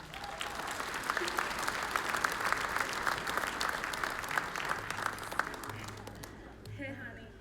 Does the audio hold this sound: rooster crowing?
no